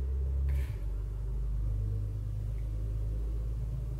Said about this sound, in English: It's a loud ass truck.